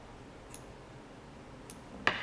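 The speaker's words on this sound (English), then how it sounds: "stack them over each other one more time and cut it in half" Scissors cutting a bunch of fly-tying fibers for a sea-run cutthroat fly, three quiet, crisp snips spread over a couple of seconds, the last slightly louder, with no talking.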